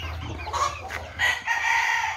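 Chickens cluck steadily at close range while a rooster crows loudly over them, with a low rumble running underneath.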